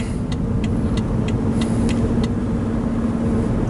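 Steady broadband road and engine rumble inside a BMW 730Li cabin while driving at higher speed, loud and continuous with a low hum and a few faint ticks, no talking.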